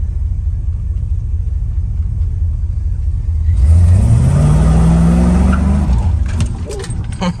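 A car fitted with a swapped R10 carburetor idles with a deep, loud rumble. It then accelerates hard, and the engine note climbs steadily as it pulls away nearby.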